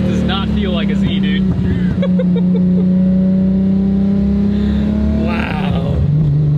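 An RB26-engined Datsun 240Z pulls hard on the street, heard from inside as a loud, sustained straight-six drone that climbs steadily in pitch through the gear before easing off near the end.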